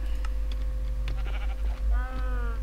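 Sheep bleating in the Minecraft video game, a few short wavering bleats in the game audio over a steady background hum, with faint clicking alongside.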